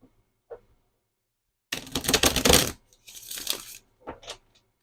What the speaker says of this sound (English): let's do another quick shuffle